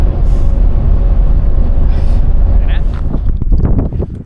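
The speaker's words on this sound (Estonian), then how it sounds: "Siin on päris tuuline, ma ei tea, kas häält on kuulda" Strong wind buffets the microphone outdoors in Albania, producing a loud, continuous low rumble that persists throughout and eases slightly near the end, with muffled voices partly buried beneath it.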